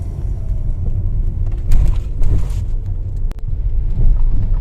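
Car driving along a road from Vyzhnytsia toward the Nemchych mountain pass in western Ukraine, a steady low engine and tyre rumble heard from inside, continuous and fairly loud, with a few brief bumps and clicks.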